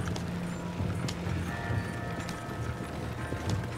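Horse hooves clip-clop at a steady trotting rhythm in the Western video game Red Dead Online, moderately close, over a low ambient background with faint sustained tones.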